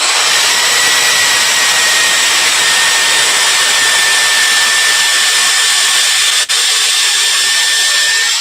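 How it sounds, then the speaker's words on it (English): A drill fitted with a buffing wheel polishes a small waxed wooden box, making a loud, steady high whine close up that runs without a break apart from one brief dip. "So I'm just going to give it a quick buff with my buffing wheel on the drill."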